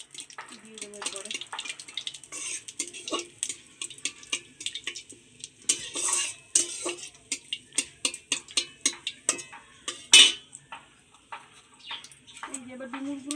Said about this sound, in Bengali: ফোড়নে তেজপাতা, ভালো করে নাড়িয়ে নেব।